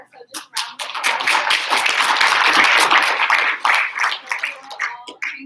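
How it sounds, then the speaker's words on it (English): An audience at a student meeting breaks into a round of applause, dense clapping swelling for several seconds then thinning into scattered individual claps, with some voices mixed in. "so just round of applause"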